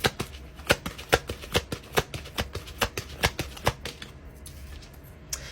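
Oracle cards riffled in a rapid run of crisp, evenly spaced flicks, close and clear, slowing and thinning toward the end with no talking over them.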